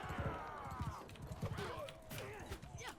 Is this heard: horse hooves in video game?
yes